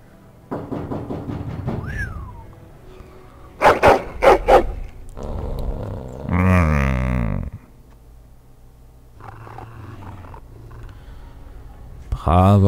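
A dog in Dragon Age: Origins barks loudly in a quick burst of several close barks, set among game dialogue, creaks and other in-game sounds, with a voice speaking in German.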